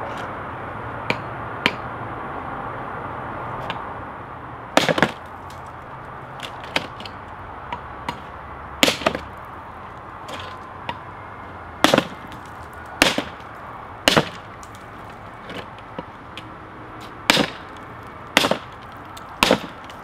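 A Schrade SCHF43 Jessica-X knife chops into brick with sharp, loud cracking impacts, irregularly spaced, about a dozen strikes over a steady background hiss, with no talking.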